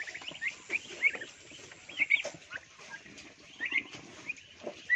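Hybrid turkey chicks on a farm give high, repeated peeping calls in short bursts, fairly close and steady over a low background rustle, with no talking.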